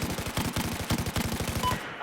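Rapid automatic gunfire from a weapon in the Battlefield video game, a dense burst of about fifteen evenly spaced shots over two seconds, loud and close, ending abruptly.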